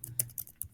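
A few quick key clicks on a computer keyboard while typing code, close and soft, spaced unevenly over a moment.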